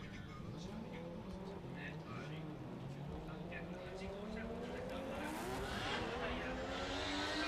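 A Mazda RX-7 FD3S drift car screams through a qualifying run at Ebisu, with the rotary engine climbing and falling in pitch and tyres squealing, heard from a distance beneath steady commentary.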